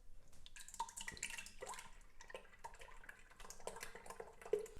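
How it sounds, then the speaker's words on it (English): Milk pouring into an Instant Pot, a faint, soft liquid splashing and trickling with small drips, close and quiet. "The rest of this milk is going into our Instant Pot."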